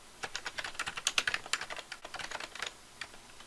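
Quick, uneven taps of a computer keyboard, close and fairly quiet, come in short bursts with brief pauses between them.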